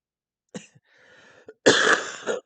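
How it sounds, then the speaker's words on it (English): A person coughs a few times close up, starting with short sharp coughs and ending in a loud, harsh burst of throat-clearing coughs. "Sorry about all that coughing."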